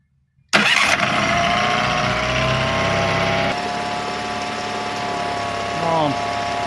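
An outboard boat engine with a replacement CDI ignition module cranks and catches abruptly, then settles into a steady, loud idle with a slight shift in tone partway through and a brief rise near the end.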